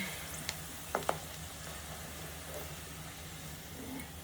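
Steady, soft sizzling of onions frying in oil until brown for vegetable dum biryani, with a few sharp clinks of a utensil near the start.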